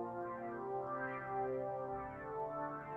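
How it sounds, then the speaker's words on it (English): A sustained harmonic synth tone in a music mix, thick and shimmering with a chorus effect that makes it gently waver and swirl, steady and fairly loud with no voices. "But let's send a little bit of chorus"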